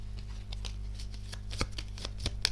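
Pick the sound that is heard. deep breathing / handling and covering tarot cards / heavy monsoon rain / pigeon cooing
handling and covering tarot cards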